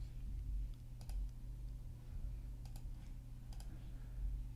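Someone types on a computer keyboard while working in an Excel spreadsheet, producing faint, sparse clusters of key clicks over a low steady hum.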